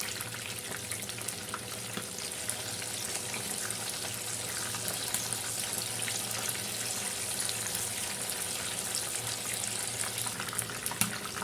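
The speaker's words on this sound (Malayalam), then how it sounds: "നമുക്ക് ഒരു വശം ഫ്രൈ ആയി കഴിയുമ്പോൾ മറിച്ചിട്ട് കൊടുക്കാം" Chicken pieces fry in a pan with a loud, steady, close-up sizzle and crackle that runs throughout with no talking.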